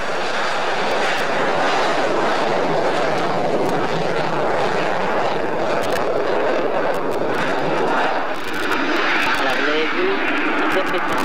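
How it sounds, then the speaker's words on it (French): An F-16 fighter jet taking off at a 1997 airshow in Sion, its engine a loud, continuous broadband roar throughout, with someone talking over it. "Alors regardez bien le décollage de cet avion"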